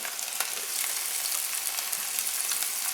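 Potatoes fry in oil in a pan, a steady, bright crackling sizzle that continues evenly throughout with small pops and no talk.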